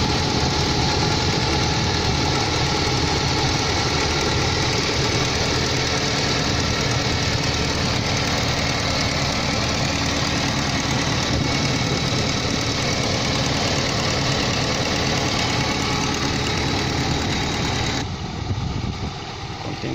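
A 2005 Chevrolet LUV engine with freshly re-ringed pistons runs at a steady idle, loud and close, a dense continuous rumble with a light knocking texture, cutting off abruptly near the end.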